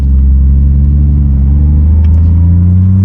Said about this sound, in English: now we're actually driving this 1990 Toyota Supra Turbo